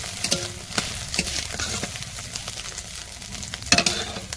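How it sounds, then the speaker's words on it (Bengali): An egg frying in a pan in a Sundarbans village kitchen, with continuous close sizzling broken by sharp pops and crackles, one louder burst near the end. "ডিম ভাজা আমার হয়ে গেছে, এবার নামিয়ে দেব।"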